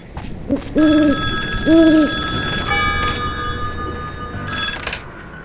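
A second telephone rings in the horror game Bear Haven Nights, its tone sounding through steady background hum, with two short hooting bursts near the start, moderately loud.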